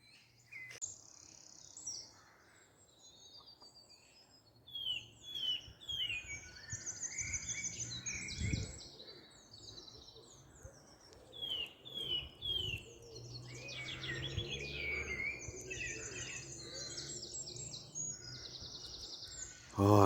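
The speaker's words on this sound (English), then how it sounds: "Just that, those birds tweeting, just out in the fresh air." Birds chirp and tweet outdoors at a lockdown bushcraft camp beside a wood-burning hot tent teepee, several calls overlapping in quick bright bursts at a moderate distance over quiet ambience, with a faint low murmur in places.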